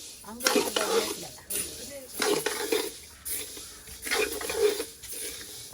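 Dry chillies and coriander seeds being dry-roasted and stirred in a pan, with repeated scraping strokes of a ladle against the metal in bursts, close up, with voices talking over it.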